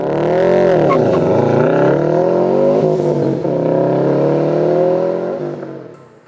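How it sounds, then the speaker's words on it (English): A loud, deep exhaust rumble as a Subaru WRX STI with an AWE catback exhaust idles and revs, steady and close throughout before easing off at the end. "the AWE catback exhaust, unleashing that signature Subi rumble"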